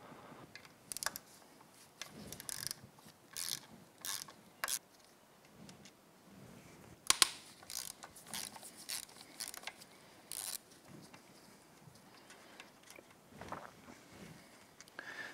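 A ratchet loosening the two 8 mm oil filter cover bolts on a 2005 Honda CRF450-R, heard as quiet, close bursts of rapid clicking separated by short pauses, with no talking.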